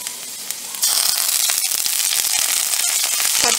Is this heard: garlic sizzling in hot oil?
yes